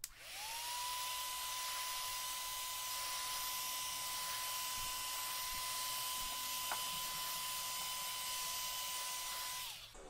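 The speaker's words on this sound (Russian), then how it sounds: "Возьму сейчас строительный фен, немножко нагрею ручку" A heat gun warming a wooden hammer handle blows with a constant, loud whirring hiss, a steady tone running throughout until it switches off at the end.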